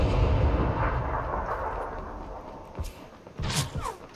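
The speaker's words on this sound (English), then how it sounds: "Shooting us, eh?" Gunfire in a video game comes as a few booming shots and thuds with a swooshing burst near the end, over a dull rumbling background and with no talk.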